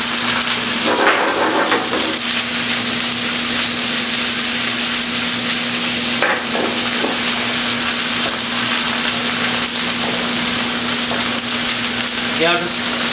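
Tomato paste sautéing in an Indian onion-tomato curry base in a pan, a loud, steady sizzle running throughout with occasional stirring scrapes.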